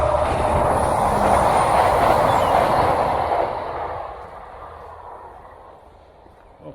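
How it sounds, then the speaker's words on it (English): A train rumbles past close by, loud and steady, then fades gradually into the distance. "hey up, train's coming"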